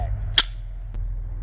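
Walther PDP Compact pistol fired once: a single sharp gunshot crack, close and short, followed by a faint click and quiet background.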